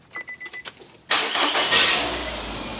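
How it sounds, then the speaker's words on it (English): Nissan Altima engine turning over after a loose ground wire was fixed: a few short clicks and stutters, then the engine catches abruptly and settles into a loud, steady idle. "now we're going to try to start the car"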